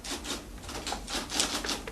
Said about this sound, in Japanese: 今タイプを打っています。